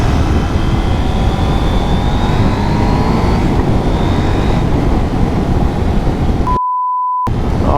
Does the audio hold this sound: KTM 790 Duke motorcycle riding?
yes